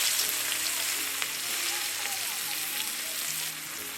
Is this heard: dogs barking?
no